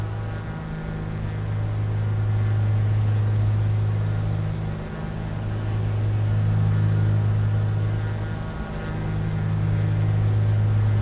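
Twin piston engines of a Cessna C337H Skymaster II drone in a flight simulator, a loud, steady, low hum with a gentle swelling beat as the power is eased back.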